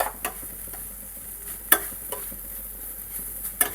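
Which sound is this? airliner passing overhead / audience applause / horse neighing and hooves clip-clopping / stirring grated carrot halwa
stirring grated carrot halwa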